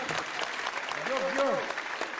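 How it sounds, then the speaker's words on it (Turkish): An audience at a religious talk applauds in a dense, steady patter, with voices rising over the clapping. "Ya bu alkış işi iyi bir iş değil."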